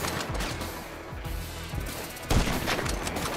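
Grand Theft Auto 5 gunfire rattles in quick bursts of sharp shots over a busy game soundscape, fairly close, with a heavier blast partway through.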